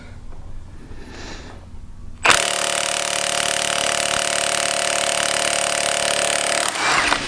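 A battery-powered 1/2 inch impact wrench hammers loudly and steadily through a sustained burst of about four seconds, after a quieter stretch of low background rumble, cutting off sharply at the end.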